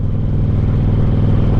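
An old Harley-Davidson motorcycle with modern power rumbles steadily on the road, a loud, close, continuous low engine drone with a throbbing pulse.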